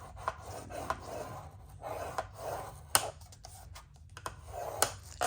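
Cardstock being scored for a matchbook gift box, a soft rubbing and scraping with a few sharp ticks spread across the clip, quiet and close with no voices.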